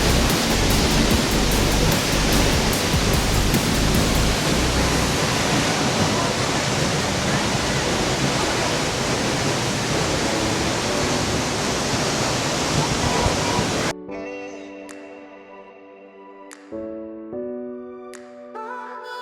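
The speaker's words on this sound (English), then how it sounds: "so we just visited the Seljalandsfoss waterfall" Seljalandsfoss waterfall in Iceland, a loud, steady roar of falling water that fills the air like heavy rain, then gives way to a quieter stretch with faint tonal sounds.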